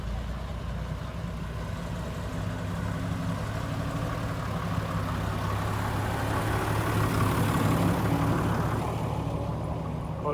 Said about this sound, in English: Fire engines.